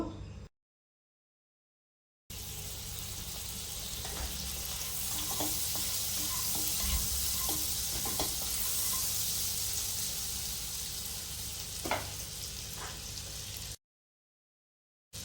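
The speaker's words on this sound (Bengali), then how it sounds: "এবার আমি একটু প্যানে বাটার দেবো।" Butter sizzles steadily in a frying pan, a close continuous hiss with occasional small pops and clicks.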